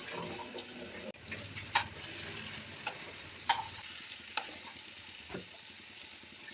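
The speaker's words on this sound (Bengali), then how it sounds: "ছানাগুলো ভাজা হয়ে গেছে," Pieces of chhana (cottage cheese) frying in about two spoons of oil in a kadai on the stove, giving a soft sizzle with occasional pops and faint stirring scrapes, quiet and close.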